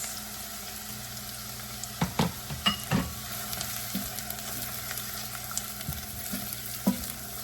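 Onions fry in oil infused with spices, giving a low, steady sizzle with scattered clicks of a utensil stirring in the pan, moderately close and fairly quiet.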